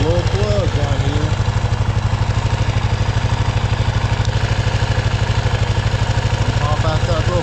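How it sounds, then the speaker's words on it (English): A 2022 Kawasaki KLR 650 motorcycle idles to warm up, giving a steady, close, rapid thumping putter at an even pace for the whole stretch, with faint voice-like sounds at the start and end. "I'm letting my KLR run right now to get it good hot"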